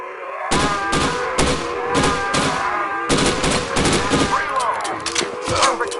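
Gunfire in a zombie mode of a PS4 video game: rapid loud bursts of shots in repeated clusters with short gaps, close and dominant.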